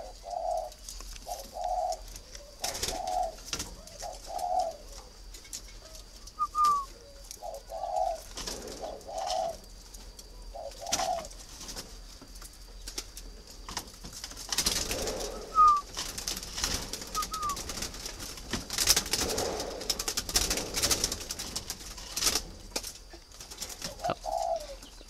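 Breeding spotted doves coo in a steady series of soft, evenly spaced two-part calls, clear and fairly near, over a constant low background hum with some rustling noise later on.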